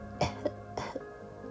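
A little girl coughs up water after nearly drowning, giving two short wet coughing bursts with a quieter catch between them, close and alone with no talk.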